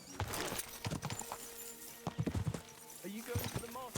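Horse hooves clip-clop in Kingdom Come: Deliverance 2 as a beautiful horse walks, with a series of sharp, uneven hoof knocks across the clip. Game voices talk over them.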